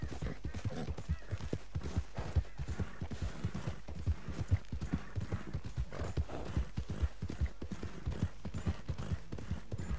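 Hooves clip-clop steadily as a horse trots in Red Dead Redemption 2, a Western video game, the rhythmic beats fairly quiet and close, with a faint whinny amid the steps.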